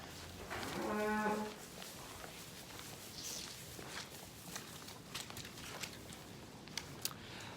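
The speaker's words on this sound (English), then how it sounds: "I'm just going to show you some of the cows just lying across the yard" Dairy cow on a farm yard gives one loud, drawn-out moo up close, followed by quieter shuffling, hoof steps and scattered knocks around the yard.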